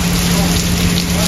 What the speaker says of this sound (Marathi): पाऊस आले बाहेर.